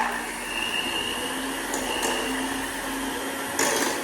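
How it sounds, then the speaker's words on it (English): A handheld mixer shredding cooked chicken runs with a steady, loud motor whine and grinding buzz, the pitch wavering slightly as it works through the meat. "you can either use the big stand mixer with a paddle attachment or one of these handheld"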